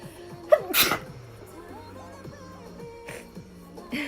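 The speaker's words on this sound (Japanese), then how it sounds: "めっちゃくしゃみ出る。" A young woman sneezes close by, one sharp burst followed by a second at the end, with faint background sounds between them.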